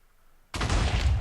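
TNT blowing up in the Minecraft video game: quiet, then a sudden loud blast that sustains as a dense, rumbling roar through the end.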